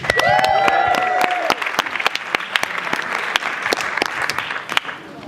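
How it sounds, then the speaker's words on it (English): An audience gives a big round of applause for a performer introduced before a theatre and beatboxing set, steady dense clapping for about five seconds with a few sharp cheers at the start, close and loud. "So we get a big round of applause for Paul Cree."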